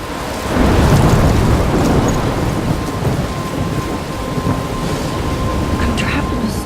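Thunderstorm with heavy, steady rain in the Life Is Strange video game, a dense hiss of downpour with deep rolling thunder underneath, loud and close throughout.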